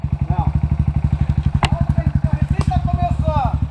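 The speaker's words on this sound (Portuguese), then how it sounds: "Tu não pode desligar a moto?" A motorcycle engine idles close by in a steady, rapid, pulsing chug that runs throughout without a break, with brief voices faintly audible over it.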